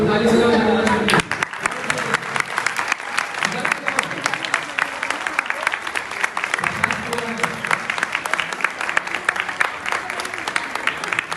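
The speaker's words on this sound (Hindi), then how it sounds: "तो सभी ताली बजाओ जगन्नाथ जी।" A crowd claps at a Ratha Yatra temple festival in Milan Vihar, New Delhi, with sustained rhythmic clapping after a voice at the start, voices mixed through the busy outdoor gathering.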